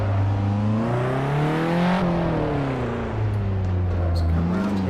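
A loud, steady race car engine in the Assetto Corsa racing game, at the Goodwood Festival of Speed hill climb, roars and revs continuously, its pitch rising and dipping smoothly with gear changes, with no talking.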